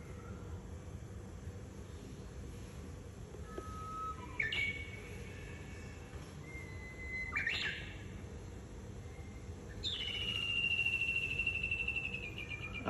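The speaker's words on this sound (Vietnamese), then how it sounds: "Con này chuông chim hót rồi nghe vui tai lắm." A clock's birdsong chime plays several quiet, separate electronic chirps and a drawn-out whistled call over a steady low background hiss.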